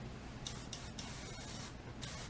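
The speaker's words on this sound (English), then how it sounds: "now it's spraying super wide." An airbrush sprays water in a wide pattern, giving soft hissing bursts of compressed air that start and stop several times at close range, fairly quiet with no voices.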